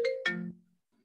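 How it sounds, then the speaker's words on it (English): Mobile phone ringtone going off during an informal indoor gathering, two short bright tonal chimes in quick succession, fairly loud and close, then fading to near silence. "Benjamin, can you turn your phone off?"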